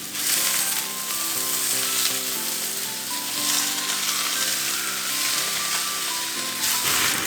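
Soaked rice noodles sizzle loudly in a hot pan for pad thai, a steady, close frying hiss with slight stirring swells and a faint tonal hum underneath, no voices.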